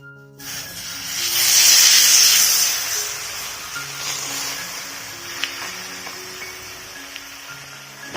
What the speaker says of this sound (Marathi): तव्यावरती तेल घालून घ्यायचं आहे आणि अलगत असं आपलं थालीपीठ त्यावरती आपल्याला घालून घ्यायचं आहे